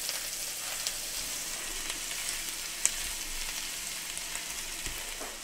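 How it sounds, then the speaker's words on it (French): Onion softens in butter in a hot pan for a Breton burger, a steady, gentle sizzle heard close up with occasional faint crackles and a small tap, no talk over it. "Hop, ma poêle est chaude. Parfait. On va faire fondre tranquillement l'oignon."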